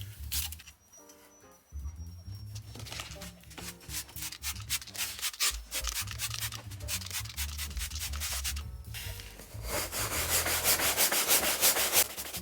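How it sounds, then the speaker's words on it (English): Vigorous scrubbing against cloth car seat upholstery in a Toyota Celica ZZT231, a rapid rhythmic rubbing that continues throughout and grows louder and faster toward the end. "There's going to be a lot of scrubbing going on."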